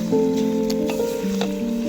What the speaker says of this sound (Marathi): तर चिकन टाकूत आता पातेल्यात.